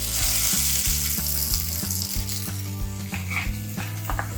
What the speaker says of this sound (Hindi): तो चलिए हम इसको फ्राई करते हैं।